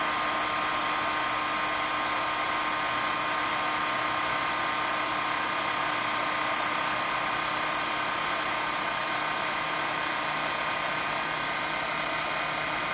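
Heat embossing tool blowing hot air to set embossing powder on a handmade card, a steady, loud whirring hum with a high whine that runs unbroken throughout, with no talk over it.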